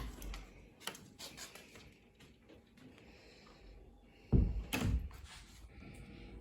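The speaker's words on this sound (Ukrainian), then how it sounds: "просить, щоб йому відкрили двері" A door thumps and rattles as it is opened for a dog in a kitchen, one heavy close knock standing out over a quiet room with faint scattered clicks.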